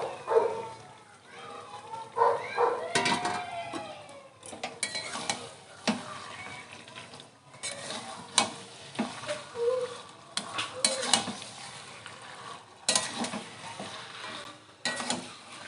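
Marinated broiler chicken is tipped into cooked-down masala and stirred in a pan, giving irregular scraping and clattering strokes over a quiet sizzle, with a dog barking faintly in the background.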